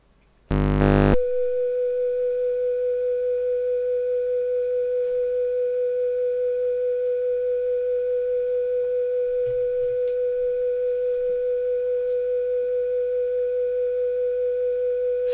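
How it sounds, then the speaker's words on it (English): A Roland MT-32 sound module holds a single steady electronic tone after a short loud burst at the start, unbroken and constant for the rest of the clip, close and fairly loud with a faint background hum. "this tone is the last tone out of the MT32, and it stops when I turn off the MT32"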